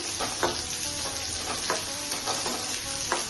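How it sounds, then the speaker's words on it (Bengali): Spice paste with tomato, green chilli and garam masala fries in ghee, making a continuous loud sizzle broken by a few quick stirring scrapes over about three seconds. "কষানো হয়ে যাচ্ছে"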